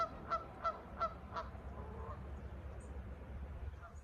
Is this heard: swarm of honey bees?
no